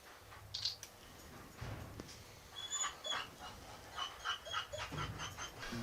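An injured dog, wounded by gunshot pellets, lets out faint whimpers and soft yips in a quiet room, scattered in short bursts over a low background.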